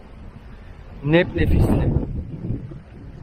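Wind buffeting the microphone on a beach near Azur Bay, Hurghada, a steady low rumble that runs under a voice throughout.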